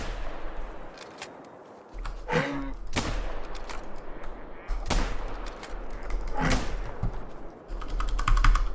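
Gunfire in a homemade game jam video game: several sharp, separate shots spaced a second or so apart, with the clatter of keyboard typing between them and a low hum underneath.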